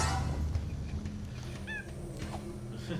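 A cat in the Jak 3 game on PS4 gives a short, faint meow partway through, set against steady game background sound.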